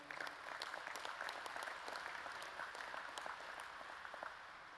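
Applause for Tony McCleary at the opening ceremonies of the National Fraternal Order of Police's 66th Biennial Conference in Las Vegas, a steady hall-filling clatter of many hands, fairly distant and even throughout.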